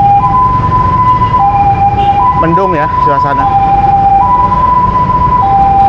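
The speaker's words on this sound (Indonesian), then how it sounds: "lewat dulu ambulan biar" An ambulance siren wails loud and close as it passes along a road, its two-tone cycle holding steady over traffic noise while a voice talks briefly.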